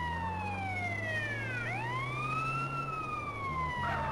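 An ambulance siren in the video game GTA The Definitive Edition wails steadily. Its pitch sweeps down, then rises again over a low engine drone, with a brief burst of noise near the end.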